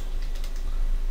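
Typing on a computer keyboard while writing a Microsoft Word document, a steady run of light keystrokes over a constant hum, close to the microphone.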